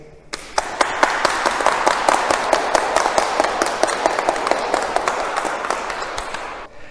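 A church room breaks into sustained applause, many hands clapping steadily for several seconds before fading out.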